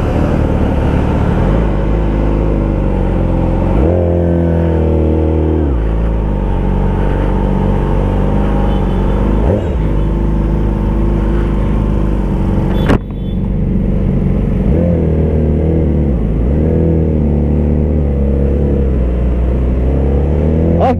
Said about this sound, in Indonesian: Jadi kita langsung coba aja motor ini.